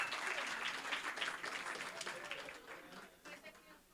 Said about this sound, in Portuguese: Palmas para as nossas voluntárias.